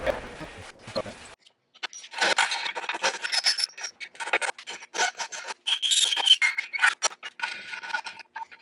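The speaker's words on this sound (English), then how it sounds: "Just softened up the edges on the wire wheel" A wire wheel smoothing the cut edges of wire, heard as close, irregular bursts of rasping and scraping that start after a short pause and come and go.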